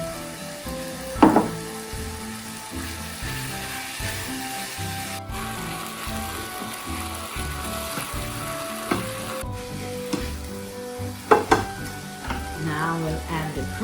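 Spinach tipped into a hot pan for a salmon dish, a steady loud sizzle with stirring and utensil knocks and scrapes, a few sharper clatters, no talk.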